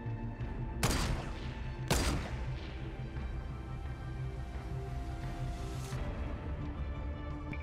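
Gunfire in the Fortnite video game on Xbox One: two sharp, loud shots stand out near the start and a softer one later, over a steady bed of game noise with more distant shooting.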